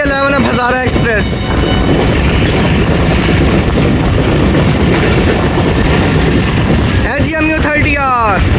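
The Hazara Express train passes loudly and close by, its wheels and carriages roaring continuously. Horn blasts sound near the start and again near the end.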